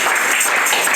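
A church congregation claps together at a home group service, a short burst of dense, loud, brisk clapping filling the moment.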